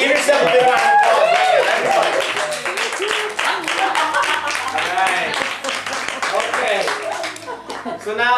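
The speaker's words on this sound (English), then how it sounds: "Give yourself a big round of applause." Audience applause at the Egg of the Year awards ceremony in 2009, dense clapping mixed with cheering, whoops and laughter that fills the whole stretch at a steady loud level.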